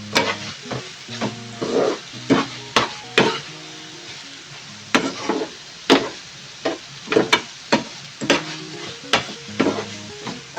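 Liver (kaleji) being mixed and fried with masala on a tawa, Karachi street-food style; continuous sizzle broken by regular sharp spatula clanks and scrapes on the metal, close and loud, no voices.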